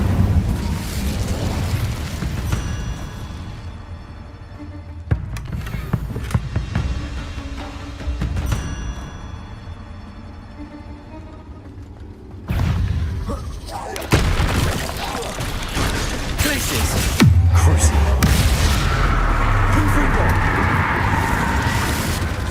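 Incendio fire spell cast repeatedly in Hogwarts Legacy, loud booming whooshes and bursting blasts recurring over about twenty seconds amid game music and effects, with spoken incantations.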